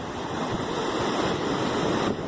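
Atlantic Ocean surf at Indian Harbour Beach, Florida: a continuous broad wash of breaking waves with a faint wind rumble, steady and fairly loud, no voices.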